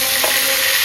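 Chopped tomatoes hitting hot oil in a frying pan, a loud, close, continuous sizzle with a brief surge as they land.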